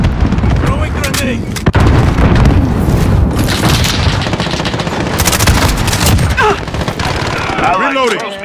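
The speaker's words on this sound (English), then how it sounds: "Throwing grenade!" A grenade blows up in a first-person military shooter video game amid dense, continuous gunfire and booming blasts, loud and close throughout, with shouted voices mixed into the din.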